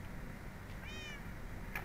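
A Minecraft cat lets out a single short meow partway through, followed by a brief chirp near the end, heard alone over a steady low game background.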